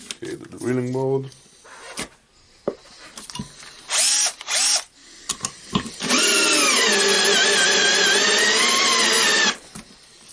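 Bosch 10.8V cordless drill running in drilling mode on a screw and wood, with short bursts and brief whirs before a sustained, loud, steady motor whine lasting several seconds, then stopping.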